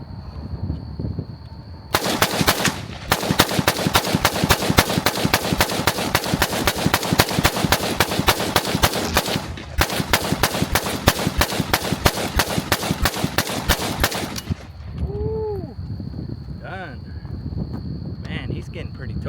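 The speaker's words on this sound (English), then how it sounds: "The ammo worked great in my government contract, Hugo, and also in the new production." A Zastava M70 rifle fires outdoors in two long, rapid strings of loud, close shots separated by a brief pause, followed by quieter handling sounds.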